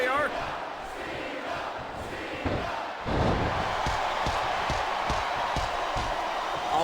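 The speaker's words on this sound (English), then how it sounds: "I think this crowd's giving these superstars a piece of their minds" A wrestling arena crowd in the WWE SmackDown vs Raw 2008 video game jeers and roars in a loud, continuous wash of noise, with a few thuds and a louder swell midway.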